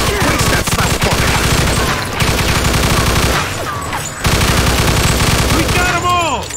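Sustained machine gun fire in Mafia 2 Definitive Edition, loud, dense automatic bursts hammering almost without pause, briefly dropping near the end of the first half before resuming at full force.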